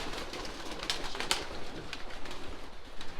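Racing pigeons coo steadily in a loft, a dense near chorus of soft murmuring calls with a few sharper bursts, under a constant background hum.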